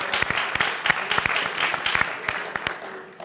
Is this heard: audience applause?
yes